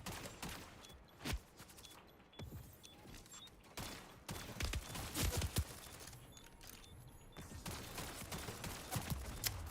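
Rapid bursts of SMG fire in a video game crackle in short, uneven volleys with sharp clustered shots and brief gaps, fairly close and punchy throughout.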